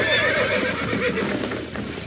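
A horse in the Red Dead Redemption video game whinnies with a high, wavering call over steady clip-clop of hooves and a busy rumbling background, fairly loud throughout.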